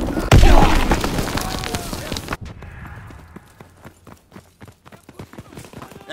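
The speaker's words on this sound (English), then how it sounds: "Enemy bomb incoming. Get to cover." An enemy bomb explosion in the multiplayer of Call of Duty WWII, a loud booming blast that rumbles for a couple of seconds, then drops to scattered thuds and footsteps, with a voice heard in the mix.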